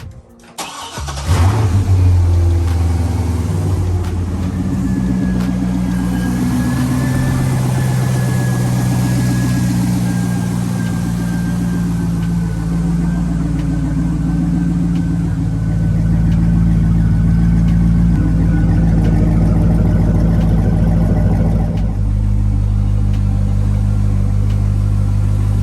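A Corvette engine cranks and catches, then settles into a steady, loud, close idle with a low rumble that holds for over twenty seconds, rising slightly near the end.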